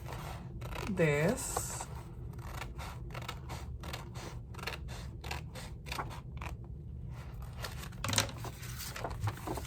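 Scissors snip through a paper file folder in a run of repeated cuts with a brief tearing sound, close by, as someone speaks a short word.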